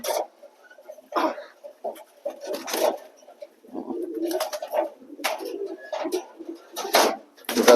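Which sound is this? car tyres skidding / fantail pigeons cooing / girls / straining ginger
fantail pigeons cooing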